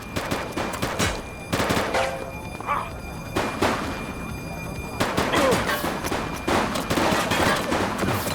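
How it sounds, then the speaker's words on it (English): Loud, near gunfire in an urban police shootout in the video game The Precinct, set in an 1980s crime city, with sharp repeated bursts and volleys of shots echoing over several seconds. "He's shooting!"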